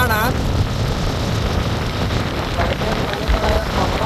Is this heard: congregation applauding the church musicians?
no